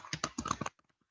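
Keys on a computer keyboard pressed for a Ctrl+F shortcut in a spreadsheet: a quick cluster of firm, close clicks, then a few faint, scattered taps before quiet.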